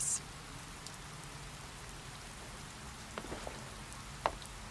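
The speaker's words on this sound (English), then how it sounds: "It was raining just like this." Steady rain falling, a faint even patter spread across the whole stretch with a few brief louder drops near the end, and no voices.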